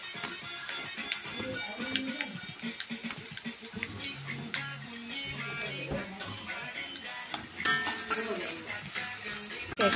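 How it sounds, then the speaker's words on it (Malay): Garlic sautés in a pan with a steady, close sizzle and scattered stirring clatter running throughout, with no speech. "kita tumis sampai naik bau dan kekuningan macam ni"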